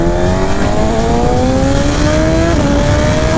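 A BMW S1000RR sport motorcycle, backfiring, accelerates hard through its gears with a quick shifter, a loud close engine whine climbing in pitch with quick shift steps and heavy wind rush.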